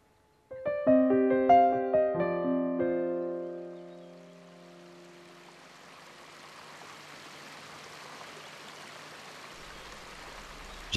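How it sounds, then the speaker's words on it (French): A few bright melodic notes ring out, then a steady rushing stream takes over, continuous and moderately loud with no voices. "J'aime le bruit du ruisseau"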